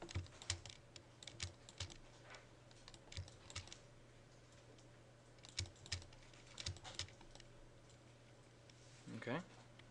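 Quiet, irregular keystrokes on a computer keyboard as a command is typed in Rhino 3D modeling software, with scattered clicks and taps and a faint steady background hum.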